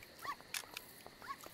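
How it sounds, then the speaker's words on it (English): Dogs in a video game whimpering and yipping, with a few short high whines and yelps over a quiet background, fairly faint and brief. "Where am I hearing these dogs?"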